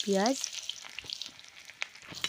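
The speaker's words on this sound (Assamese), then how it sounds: "পিঁয়াজখিনি অকণমান ভাজি ল'ম ৰঙচুৱা হোৱালৈকে" Onions sizzle in hot oil in a wok, a soft continuous frying hiss with small crackles, preceded by a brief rising tonal chirp at the start.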